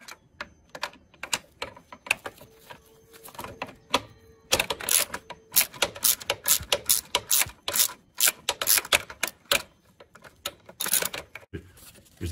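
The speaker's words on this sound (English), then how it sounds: "I'm going to remove this 10 millimeter bolt here in order to change the coolant in the reservoir." A 10 millimeter bolt is worked loose on the coolant reservoir of a Honda Shadow Aero VT750C motorcycle, giving quiet scrapes followed by dense runs of sharp, close metallic clicks from a ratcheting tool.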